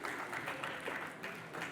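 Audience applause at a conference panel on reindustrialization in Santander: a steady, dense patter of many hands clapping, moderately faint and even throughout, with no pauses.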